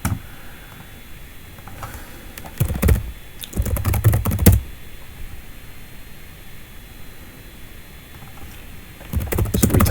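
Fingers tap out a command on a computer keyboard in two quick close bursts of crisp key clicks separated by a pause, with a faint steady hiss beneath.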